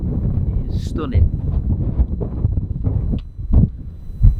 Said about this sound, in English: It is very windy up here, so I've got to be a bit careful.